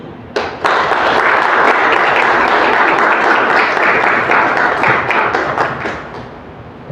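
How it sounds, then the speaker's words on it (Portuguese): An audience at a book launch and poetry event bursts into applause, a dense burst of many clapping hands that holds steady for several seconds, then thins toward the end. "Aplaudamos."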